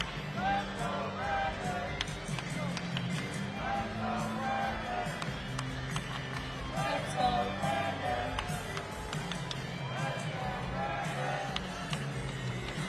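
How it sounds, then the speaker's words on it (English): A large rally crowd for Donald Trump in Rome, Georgia chants "Let's go, Brandon" in a steady, rhythmic roar, with cheering and scattered claps rising over a dense, continuous wash of many voices. "the crowd starts chanting, "Let's go, Brandon.""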